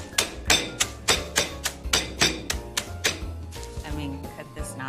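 Rapid, regular banging thuds, about two per second, as something is pounded against a hard surface, each hit sharp with a crackly crunch.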